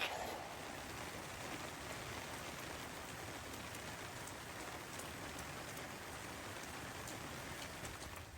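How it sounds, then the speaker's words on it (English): Heavy rain pouring down on a surface, a dense, even hiss of many drops that holds steady throughout, fairly faint and with no voices. "you can probably hear in here how heavy the rain is"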